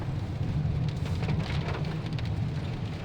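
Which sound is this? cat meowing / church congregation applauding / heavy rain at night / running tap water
heavy rain at night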